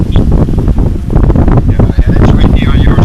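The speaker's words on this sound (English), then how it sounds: "Oh, it's real windy on our side." Strong wind gusts batter the microphone beside open water where spray is blowing, a loud continuous roar and buffeting, with a person talking over it.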